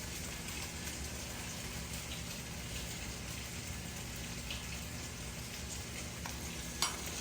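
Beef fries in hot oil for broccoli beef, a steady dense crackling sizzle like light rain, even and close, with one brief sharp tap near the end.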